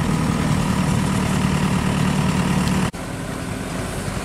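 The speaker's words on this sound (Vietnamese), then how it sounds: "bây giờ thì chiếc xe máy cắt của chúng ta đã được đề máy lên, phụ máy rồi đó" A combine harvester's engine, stuck in deep mud, idles steadily at close range with a loud, even low rumble that briefly dips near the end before settling back to a slightly quieter hum.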